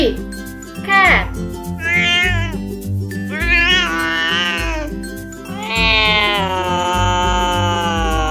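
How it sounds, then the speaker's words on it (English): A cat meows four times, drawn-out and whining, spaced a second or two apart over a light, steady musical backing. "Cat."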